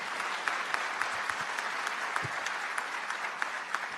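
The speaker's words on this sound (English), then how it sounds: "give them a round of applause" Applause from the crowd at a Delaware town hall, steady and dense with scattered sharper claps standing out, moderately loud and continuing without a break for a few seconds.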